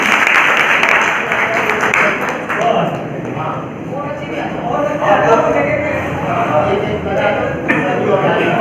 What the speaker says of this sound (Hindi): जोरदार तालियां सभी के लिए।